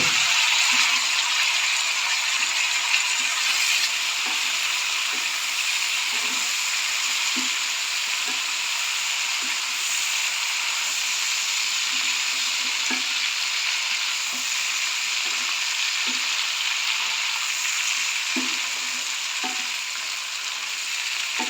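Steady loud sizzle of string beans frying in a pan with browned onion, ginger and garlic for pork adobo, with occasional stirring scrapes and clinks running throughout.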